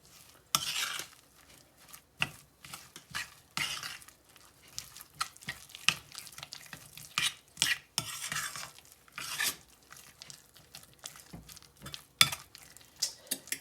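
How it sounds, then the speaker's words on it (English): Casserole ingredients with shredded mozzarella being mixed in a bowl, irregular bursts of wet stirring and scraping with a spoon clinking against the bowl, close, separated by brief pauses. "let's mix all this together"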